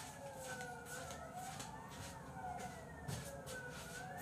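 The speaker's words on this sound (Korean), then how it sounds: "어떻게 여기 살면 이렇게 소방차예요 소방차." A fire truck siren passes at a distance, its wailing tone rising and falling steadily over low traffic rumble in a residential neighborhood, faint and unbroken.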